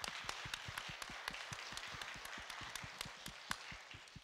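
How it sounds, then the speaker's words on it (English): A church congregation applauds at a Sunday service, a steady run of sharp, distinct claps from a modest number of people, close and fairly clear, with no talking over it. "Let's give them a round of applause."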